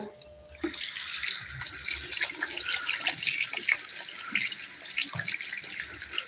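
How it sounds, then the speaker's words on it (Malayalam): A tap runs steadily as hands are washed beneath it, with water splashing and gurgling into a sink close by after a quiet start, continuous for several seconds with no talking. "ജസ്റ്റ് ഒന്ന് കൈ കഴിവട്ടെ"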